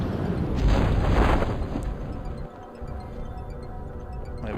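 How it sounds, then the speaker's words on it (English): A massive rocket explosion and splash as spent rockets hit the ground in Kerbal Space Program, a loud rumbling boom swelling early then settling into a lower sustained roar. "I think that massive explosion and splash was the rest of the rockets hitting the ground"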